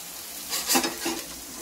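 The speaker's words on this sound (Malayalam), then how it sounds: "അത് ഇതിൽ തന്നെ ഒന്ന് സോഫ്റ്റ് ആയിട്ട് ആവുന്നവരെ ഒന്ന് നമുക്ക് വഴറ്റാം" Two big onions and one small onion sautéing in a pan for cooker chicken biriyani, with a quiet sizzle and a brief swell of stirring scrapes in the middle.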